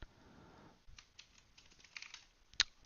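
Light keystrokes on a computer keyboard as a password is entered, a scattered run of soft, quiet clicks after a brief murmur, ending on one sharper, louder tap.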